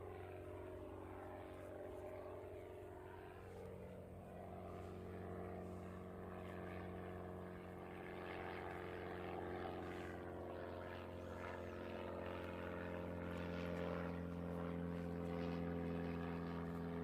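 An aircraft in black livery, probably an ATR turboprop, comes in at Christchurch Airport with a faint, distant propeller drone and a droning tone that shifts slowly and holds steadily throughout, no talk over it.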